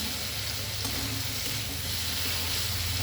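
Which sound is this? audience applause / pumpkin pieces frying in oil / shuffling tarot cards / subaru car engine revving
pumpkin pieces frying in oil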